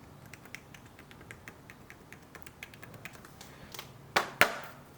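Typing on an Apple 12.9-inch iPad Smart Keyboard, a quick run of soft, close key taps in an even patter, ending in two louder, sharper clacks.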